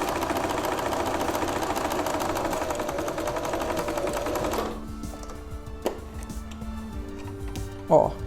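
Sewing machine stitching steadily along a folded fabric hem as an internal seam finish, a continuous fast mechanical rattle that stops abruptly midway, followed by quieter handling sounds and a short click.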